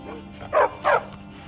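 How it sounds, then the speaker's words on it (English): A dog in the video game Skyrim gives two short, close barks in quick succession over a low steady background hum. "There's a doggy."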